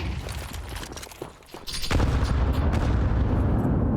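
Grenade blasts go off in a Counter-Strike esports match: crackling gunfire gives way to a sudden heavy, broadband boom that swells and rumbles on loudly to the end.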